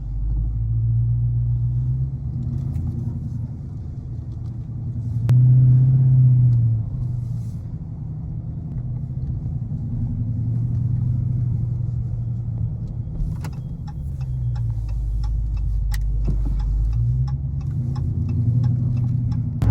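Steady low rumble of a car driving on the road, heard from inside the cabin, with light ticking and clicking on top and no talk.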